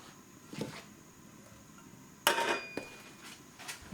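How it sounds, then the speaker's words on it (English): A Balti pan is set down on a stove with a sharp metallic clank and ringing tone, followed by a couple of softer knocks, close and otherwise quiet. "time to put our Balti pan on"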